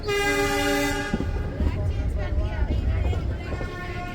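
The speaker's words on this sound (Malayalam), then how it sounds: "നീങ്ങി തുടങ്ങി വളരെ സ്ലോവിലാണ് ട്രെയിൻ പോകുന്നത്" Nilgiri toy train on the Coonoor to Ooty heritage line beginning to move slowly, a loud horn blast first, then low rumbling wheels and carriage clatter, with a voice talking over it.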